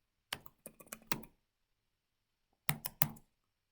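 Typing on a computer keyboard while writing Python code, heard as two short bursts of quick, close key clicks separated by a second of silence.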